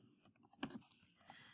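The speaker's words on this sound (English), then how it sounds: "just start typing." Someone types on a computer keyboard while filling in a PowerPoint assignment, producing soft, irregular key clicks with one sharper press midway, faint and close, without talk.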